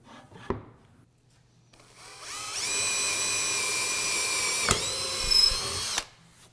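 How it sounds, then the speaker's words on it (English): Power drill boring through a wooden board for a router jig, a tap, then a loud sustained whine with rising pitch for about four seconds that dips under load and stops abruptly. "And then all you need to do is drill through the board there."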